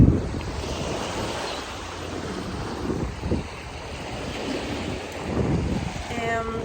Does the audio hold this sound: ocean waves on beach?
yes